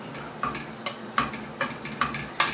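Potato patties sizzle in a frying pan with a soft, constant crackle, punctuated by regular light clicks or stirs about every half second.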